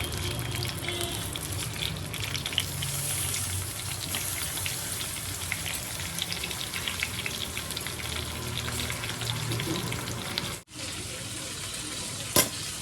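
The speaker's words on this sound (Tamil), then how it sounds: "கட் பண்ண கத்திரிக்காவை இப்போ நம்ம வந்து இந்த எண்ணெயில் ஆட் பண்ணிடலாம்." Steady sizzling of brinjal frying in hot oil, a dense crackling hiss that runs continuously with a brief dip near the end.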